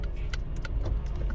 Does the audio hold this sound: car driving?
yes